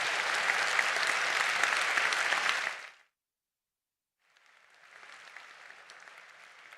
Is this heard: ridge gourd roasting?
no